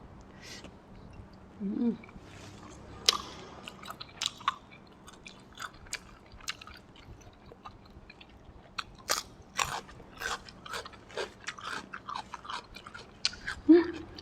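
Fried meatballs dipped in sauce and eaten with cucumber are bitten and chewed close up, with crisp, irregular crunches and smacks following one another and a brief murmur of voice between bites.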